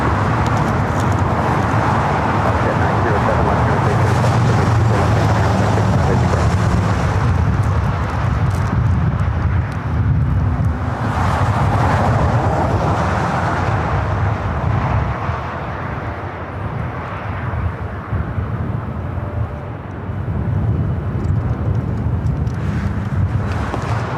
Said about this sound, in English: It looks like we have another Delta 757 to 300. Should be heading over here.